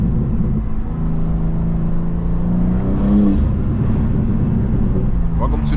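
Steady city street traffic in New York, heard from inside a BMW M2: a continuous low engine rumble with a nearby vehicle swelling and passing around the middle, cars idling and creeping, with someone talking over it.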